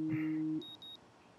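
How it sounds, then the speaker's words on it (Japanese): A video game alarm clock in Life Is Strange gives a quick series of short, thin electronic beeps right after a brief low tone. The sound is faint and ends abruptly. "目覚ましよっと。"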